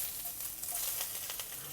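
Thin slices of young ginger sizzle in hot oil in a pan over medium heat, a steady crackling hiss with small pops throughout.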